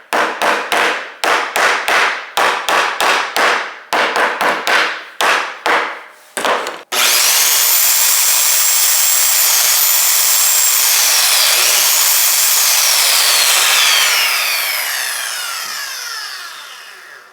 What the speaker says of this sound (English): I'm going to have to hammer them down a little bit so I can get the saw to glide across the wood